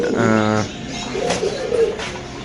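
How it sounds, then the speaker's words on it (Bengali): A female Spanish pigeon of Indonesian colour gives a short, close coo, with a voice talking around it. "এটা অ্যান্দোনেশিয়ান কালারের স্প্যানিশ মাদি কবুতর"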